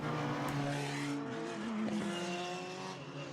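Formula BOSS race cars at a 2021 Ireland round accelerate back up to speed, a dense blend of revving engines that rise in pitch as the field passes, loud and continuous with a brief tire squeal.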